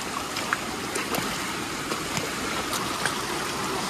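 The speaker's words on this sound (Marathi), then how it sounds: "तर इथे एक वॉटरफॉल आहे, छोटंच आहे." A small waterfall near the Ganpati Gadad caves pours in a steady broadband rush of falling water, continuous and moderately close, with no voices.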